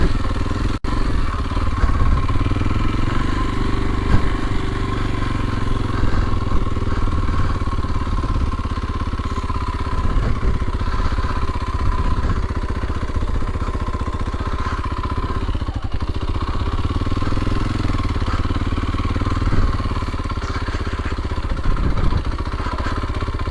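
A 2022 Kawasaki KLX230SE dual sport motorcycle rides off-road, its single engine droning steadily and loudly with small rises and falls in pitch as the bike picks its way along the trail.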